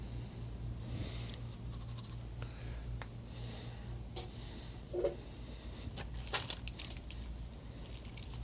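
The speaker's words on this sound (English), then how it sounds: "This time I am going to use a dry erase marker." A dry erase marker is drawn across a part of a 1935 IBM Model 01 typewriter, making faint, scattered squeaky scratching strokes over a steady low electrical hum, with no talking.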